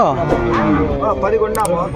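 Calves moo loudly and close by at a cattle market, several overlapping drawn-out calls, with a voice speaking briefly.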